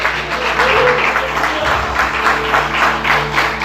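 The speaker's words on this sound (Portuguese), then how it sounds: "você pode aplaudir ao Senhor nessa noite" Congregation applauding during an evening church service, a loud continuous patter of many hands over a low organ-like hum, with brief rumbling thuds partway through.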